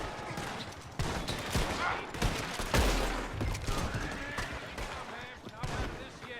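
Gunfire in the Red Dead Online video game, a fusillade of sharp rapid shots in irregular bursts with one heavy boom, under a character's spoken line.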